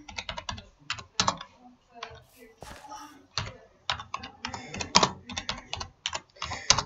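Rapid clacking on a computer keyboard while entering commands in a Minecraft-style prison game, bursts of close, crisp keystrokes with short pauses between them and faint talk.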